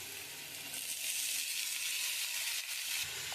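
Chopped watermelon rind hits hot oil in a pan. A soft background sizzle swells after a moment into a loud, steady hiss of frying.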